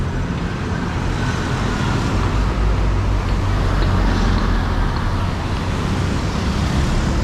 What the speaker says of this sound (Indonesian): Ada Lebuh Raya, ada bus ya.